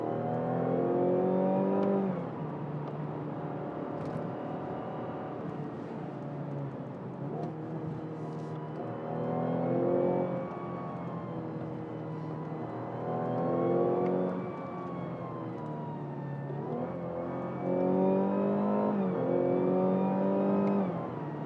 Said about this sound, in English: The gas engine under the hood is naturally aspirated, but it sounds like a supercharged unit.